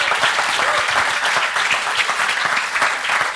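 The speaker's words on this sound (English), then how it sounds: "Big applause for him." An audience applauds at a quiz session, a dense and steady wash of many hands clapping together, loud and continuous from start to finish.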